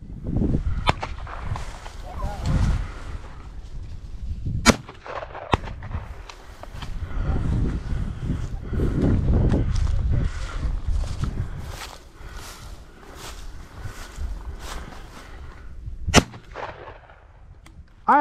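Gunshots fired while hunting beside a thicket, a series of sharp, loud cracks spaced irregularly across the clip, some close and booming, over rustling and low background noise.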